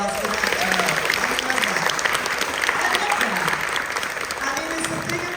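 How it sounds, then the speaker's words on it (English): Loud, sustained applause and cheering from a fan convention crowd at a drag queen's panel in Pensacola, a steady dense wash of clapping with a voice talking briefly over it. "Give her a huge round of applause for"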